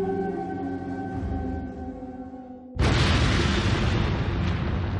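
A low droning hum is abruptly cut by a sudden, massive roaring nuclear explosion blast that keeps rumbling loudly to the end.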